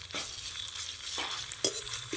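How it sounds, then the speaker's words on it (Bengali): Soft sizzling of ginger-garlic paste frying with onions in a pan, with a few spoon scrapes and taps as the mixture is stirred, quiet and close. "এখন এই পেঁয়াজের সাথে আদা রসুনটা ভেজে নেব"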